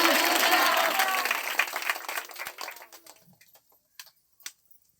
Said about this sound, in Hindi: तालियों के साथ जोर से परमेश्वर के साथ स्वागत कीजिएगा